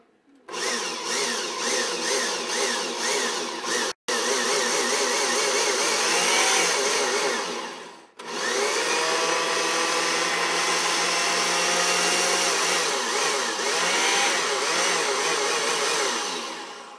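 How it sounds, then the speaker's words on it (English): A loud, steady motor whir of a blender running close by, cutting out briefly twice before whirring on again, no talking. "We got the action shot of the blender working."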